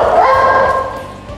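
A single close dog bark or yelp, short and loud, tapering off quickly.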